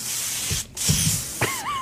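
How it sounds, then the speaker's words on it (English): Lysol disinfectant spray misted onto a studio microphone, giving a close, steady hiss that runs for over a second, breaks briefly, then resumes, with a whistling tone at the end. "I have Lysol spray. Yeah, spray the mic just in case"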